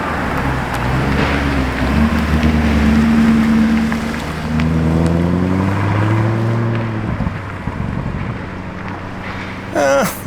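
Lamborghini Urus SE on Italian plates passing nearby, its engine note climbing and shifting through several rising tones before fading, with wind noise throughout.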